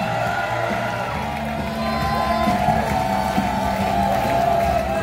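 At a Muay Thai Extreme event in Thailand, the crowd cheers and applauds to welcome a boxer, a steady loud roar of voices and whoops with an announcer talking over it.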